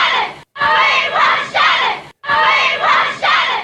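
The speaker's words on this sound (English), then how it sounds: "Crowds chanting your name" A concert crowd chants a band member's name in loud, rhythmic bursts, the same two-part shout repeating twice with brief silent gaps between rounds.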